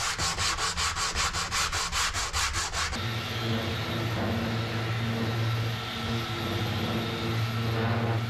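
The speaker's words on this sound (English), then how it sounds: "a little sanding to clean these up" Wooden boards being sanded while building sliding doors for a bed, first in quick rhythmic back-and-forth strokes, then a steadier continuous rasp of a power sander, loud and close with no talking.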